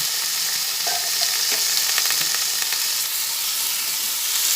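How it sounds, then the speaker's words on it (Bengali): Boiled potatoes fry in a spiced pan for a bottle-gourd peel kofta curry, a continuous close sizzle with a few soft scrapes and knocks of a spoon stirring through it. "আবার ভালোভাবে নাড়াচাড়া করে নিচ্ছি"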